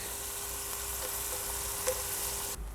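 Chopped onions sautéing in a hot pan as the base of an okra beef stew, a dense, even sizzle held close and steady, with one faint clink of a utensil near the end.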